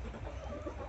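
Leghorn chickens cluck softly in a farmyard poultry run, a low continuous murmur of hens close by with no talking over it.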